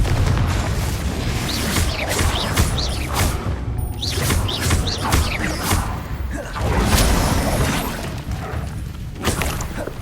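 Confringo blasting spells from Hogwarts Legacy burst again and again in a busy fight, booming thuds and swishing whooshes following each other closely and loudly across the whole stretch, with no talking.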